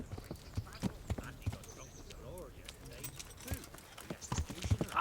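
Horse hooves clip-clop in a steady trot through a medieval town in Kingdom Come: Deliverance, regular sharp thuds under background game ambience and talking.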